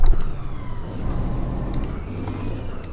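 A truck engine in Euro Truck Simulator 2, a CAT diesel in a Freightliner Classic XL, runs steadily with a low, rumbling drone that rises and settles slightly, like a heavy diesel idling and revving.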